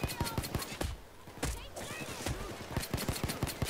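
Rapid pistol fire from a .45 handgun in the video game Payday 2, a steady run of sharp, loud shots spaced closely together, with a voice talking over parts of the shooting.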